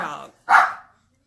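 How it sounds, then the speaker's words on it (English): A pet dog gives a single sharp indoor bark right after a person speaks, close and fairly loud, ending quickly. "Excuse my dog."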